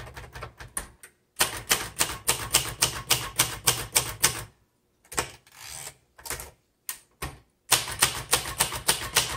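Rapid typing on a 1960s Royal Safari typewriter, with crisp, close key strikes in quick bursts separated by brief pauses.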